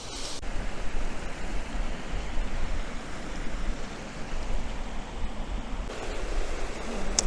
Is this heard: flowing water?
yes